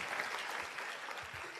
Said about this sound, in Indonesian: Tepuk tangan buat TNC dan One Vision.